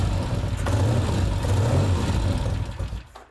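Norton motorcycle engine fired up with its electric start, a close low rumbling idle with uneven throbbing pulses that rises briefly and then fades away near the end.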